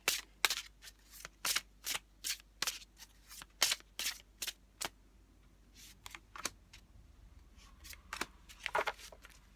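Tarot cards being shuffled close by, a run of crisp riffling bursts at a steady rhythm, pausing briefly before a few more shuffles near the end.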